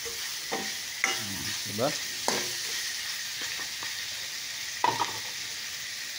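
Garlic and bay leaves sautéing in oil for chicken adobo, a soft steady sizzle broken by several distinct clacks and scrapes of a spatula stirring the pan, close and alone.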